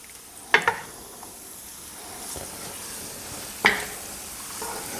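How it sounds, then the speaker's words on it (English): Veal pieces coated with onion and other stew ingredients browning in a pan, giving a steady low sizzle with a couple of sharp stirring clatters from a utensil against the pan, close and moderately loud. "we just want to cover the veal with those beautiful ingredients we put in and lightly brown them"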